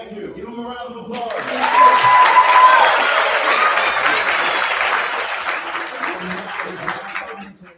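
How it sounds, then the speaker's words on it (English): Audience applause at a high school graduation commencement ceremony breaks out after a second and holds steady and full for several seconds before tapering, with voices mixed in beneath the clapping. "Give them a round of applause"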